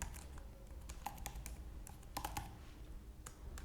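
Code being typed on a computer keyboard, soft quick key clicks in irregular bursts with a few slightly louder taps, steady and close against a faint background hum, no voices.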